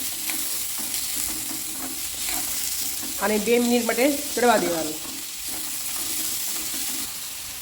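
Soft, steady sizzling of chopped onions sautéing slowly in a pan runs throughout, with a short stretch of speech in the middle.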